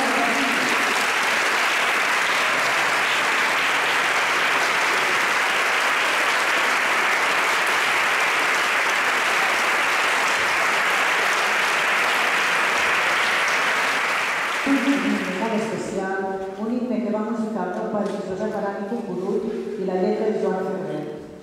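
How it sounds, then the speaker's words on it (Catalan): Audience applause at a choir concert: a dense, steady wall of clapping fills the hall for about fifteen seconds, then gives way to softer sound. "aplaudim-nos"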